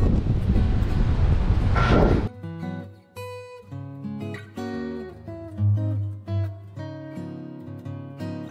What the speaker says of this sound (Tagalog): Lakas ng hangin dito.